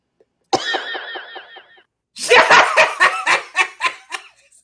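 Short burst of coughing alongside laughter between talk-show hosts, with one brief sound followed by a series of loud, choppy bursts close to the microphone.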